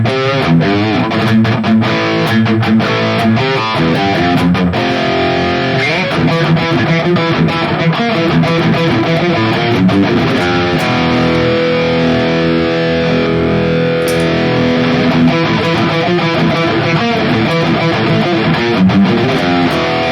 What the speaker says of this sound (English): Let's compare it with the built-in distortion block